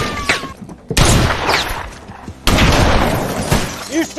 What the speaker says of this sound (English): and there was a shootout.